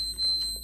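A steady high-pitched continuity beep from a multimeter while troubleshooting a Mustang II tachometer, holding as a thin constant tone over faint handling noise and ending abruptly.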